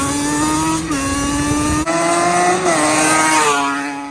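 A Banshee-powered trike engine runs close by, loud and continuous, its revs rising and falling in several steps over a few seconds.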